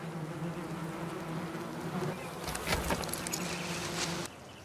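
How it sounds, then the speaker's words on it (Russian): Bees buzz inside a car, a steady droning hum that swells and grows busier toward the end before dropping back abruptly, close and continuous with no talking. "Ты выпустишь пчел в машине твоей мамы?"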